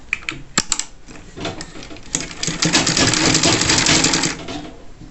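Sewing machine hemming a folded trouser edge, starting with a few sharp clicks and short taps before settling into a loud, continuous rattling run of stitching that stops abruptly, no speech.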